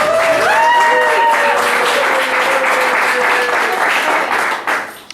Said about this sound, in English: One more hearty round of applause for Meredith.